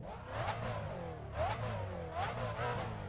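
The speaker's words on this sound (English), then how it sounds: "Nice and meaty like a V8 should be." A V8 engine in a car at the Goodwood hillclimb runs close by, idling with a deep, meaty rumble and giving three quick blips of the throttle that rise and fall at even intervals.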